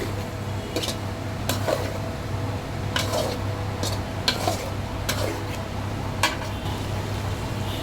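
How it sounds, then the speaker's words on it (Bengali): Jackfruit seeds and salted hilsa are stirred through spice paste in a pot, with soft intermittent scrapes and clinks of a spoon over a low, steady sizzle. "কাঁঠালের বিচিটাকেও একটু ভালোভাবে নেড়ে চেড়ে নিতে হবে।"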